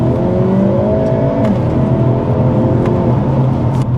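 Hyundai Elantra N car accelerating, a loud steady engine drone with rising harmonics and a few sharp transient pops, close and continuous with no talking.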